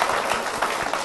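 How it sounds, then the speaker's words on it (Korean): A short burst of congregation clapping in a Salvation Army church, steady and moderately loud, with no voices over it. "박수 한번 보내드리죠."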